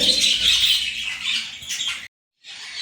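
Pet breeding birds in a rooftop farm squawk loudly and harshly at close range in a dense, overlapping burst, fall briefly silent, then start up again.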